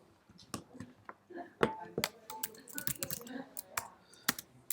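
Code being typed on a computer keyboard, a quick irregular run of close, crisp key clicks with short pauses between bursts.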